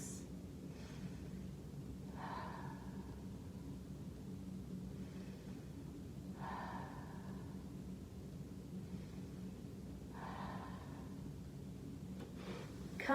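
Deep breathing during a seated exercise routine: three slow, soft breaths spaced evenly over a low steady background hum, fairly faint, with no talking.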